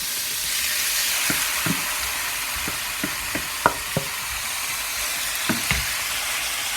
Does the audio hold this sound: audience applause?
no